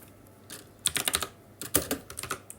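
A password is typed on a computer keyboard in two quick clusters of crisp, close keystrokes separated by a short pause, with no voices.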